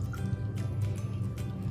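A felted wool ball is dipped in hot water and drips, a close, soft sequence of small splashes and trickles over a low steady hum.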